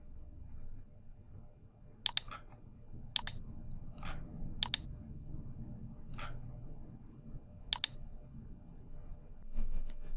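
Sharp, isolated mouse clicks in a software session, about six or seven spaced unevenly over several seconds, some as quick doubles, close and crisp over a low steady room hum.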